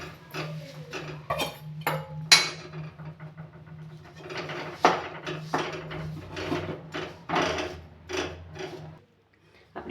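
Jaggery syrup cooks in a pan for sesame chikki, a utensil scraping and clinking against the pan in irregular bursts over a faint low hum, with quiet pauses between strokes.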